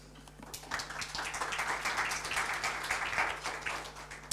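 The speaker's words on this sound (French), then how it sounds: "On peut l'applaudir." Audience at a breakfast business presentation applauding, a short, soft round of clapping over a low steady hum, rising briefly and fading after a few seconds.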